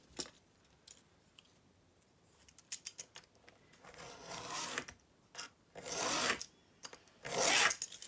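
Scissors trim the edge off a taped fabric collage sheet, quiet close snips and rustling of paper and tape, building into longer scraping cuts toward the end.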